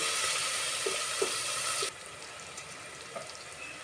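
Onions are dropped into a pan of hot oil with green chillies for khichdi. A strong hiss runs for about two seconds, then settles into a quieter sizzle with a few soft knocks.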